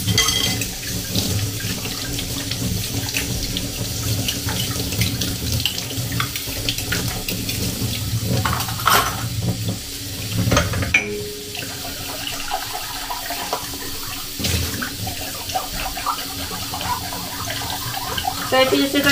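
Kitchen tap water runs steadily into a sink while dishes are washed with dish gel, with clinks of cutlery and plates over the flow throughout and a voice heard at times.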